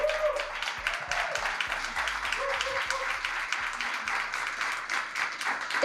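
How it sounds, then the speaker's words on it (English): An audience at a book launch in a Rosebank bookstore claps continuously as a guest walks to her seat, a steady bed of hand claps with some voices mixed in. "We clap hands for her."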